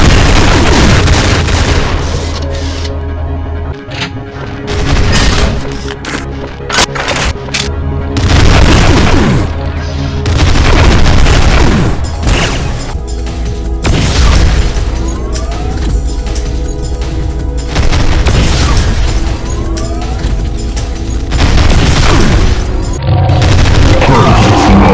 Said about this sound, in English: It also carries most of what the previous variant had, including the rapid explosive minigun attack